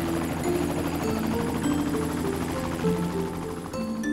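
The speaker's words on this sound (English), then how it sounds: "Let's make a helicopter." A helicopter's rotor thrums steadily with a rapid, even chop, loud and sustained throughout with no other sounds.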